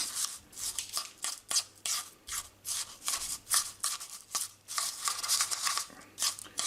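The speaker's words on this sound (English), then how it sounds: "Just get yourself a spoon of some kind, stir it around." A spoon stirs shaved ice slush from a snow cone slushy maker, making soft, gritty scraping strokes in a quick, uneven rhythm, close and fairly quiet.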